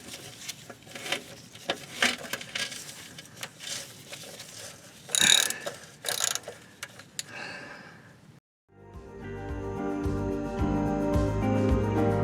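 A socket ratchet snugging up transmission pan bolts on a Ford F150, with a string of quick clicking ratchet strokes close by, then an abrupt shift to a steady, denser mechanical background.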